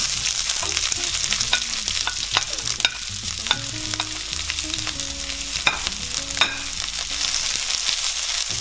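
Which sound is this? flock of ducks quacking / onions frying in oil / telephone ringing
onions frying in oil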